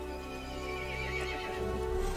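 Horse neighing in the Resident Evil 8 video game, a drawn-out whinny over low droning game ambience, with faint hoof clip-clop beneath, alone without talk.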